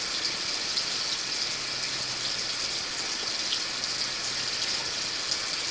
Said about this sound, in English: Let's shut the water off now.